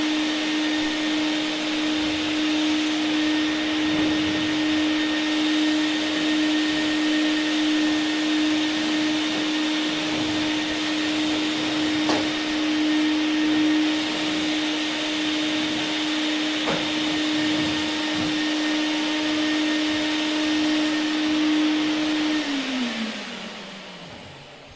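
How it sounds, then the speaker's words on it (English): A vacuum cleaner runs steadily inside a farm seed bin while it is cleaned out, a loud continuous whine with a strong steady hum holding for over twenty seconds before the tone drops as it begins to wind down. "Otherwise, you really wouldn't need to vacuum clean it."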